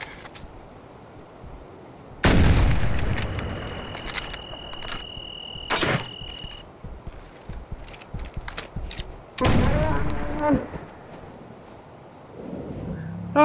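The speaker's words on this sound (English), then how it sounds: "when it's very, very point blank, the shotgun's nice to have" A shotgun fired at point blank range during a hunt in the Siberian taiga gives two loud, sharp blasts several seconds apart over wind and rustling, with softer thumps and handling noise between them.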